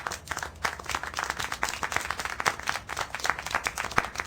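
Clapping in the video game Syberia: The World Before, a brisk run of sharp, closely spaced handclaps that continues throughout at a moderate level, with no talk over it.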